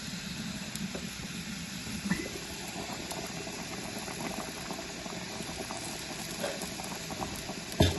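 Jamaican brown stew goat meat simmers in a pot, a soft continuous bubbling hiss with occasional small pops, close and fairly quiet.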